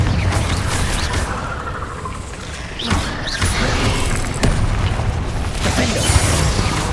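Repeated fire spells bursting in the Hogwarts Legacy video game, dense booming blasts and crackles layered over continuous game action and effects, with a few sharper pops standing out.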